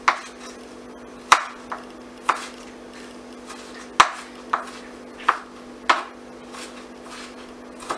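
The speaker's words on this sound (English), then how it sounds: "Now I'm just going to cut this ginger up a little bit more thinner." A knife chops fresh ginger into thin pieces on a cutting board, about nine sharp, close knocks spaced irregularly with short pauses between cuts and a steady low hum underneath.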